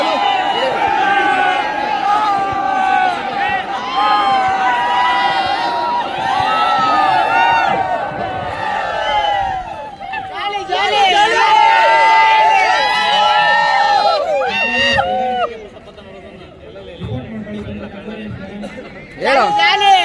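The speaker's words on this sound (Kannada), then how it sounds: "ಕ್ರೌಡ್ ಹೆವಿ ಇದೆ" A heavy crowd at a game challenge event, with dense, loud chatter and excited shouting from many people, including children. It swells and ebbs, dips near the end, then rises again sharply.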